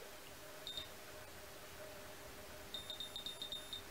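Faint high electronic beeps from a hair styling tool signalling it is ready: one short chirp early, then a quick series of four beeps near the end, against a quiet hiss.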